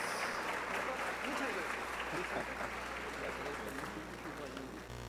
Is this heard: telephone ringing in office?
no